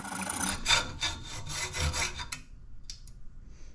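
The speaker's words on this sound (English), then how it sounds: "I hate sawing." Close, steady back-and-forth rasping of a hand saw cutting through a soft metal key, about a dozen quick strokes, then it stops and a few faint clicks follow.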